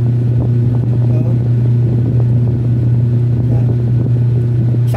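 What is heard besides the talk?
washing machine motor spinning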